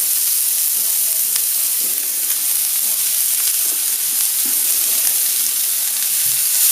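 Pepper frying and being stirred in a hot pan with chilli, giving a steady loud sizzle with faint scraping and stirring knocks throughout.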